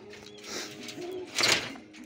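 Pigeons in a loft coo softly in short low murmurs, with a brief brighter burst near the end, close by and without talk.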